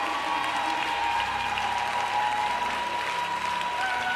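Church congregation clapping at a Sunday noon worship service, sustained and even applause from a large crowd spread through the room, with a steady tone hanging underneath.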